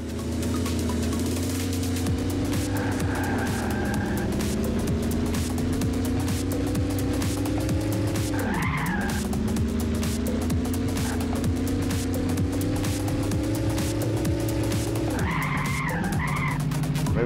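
A dumper truck in the MiniTracks racing video game drives with a steady, continuous engine drone, its pitch rising and dipping through the run, with brief skidding squeals over the top.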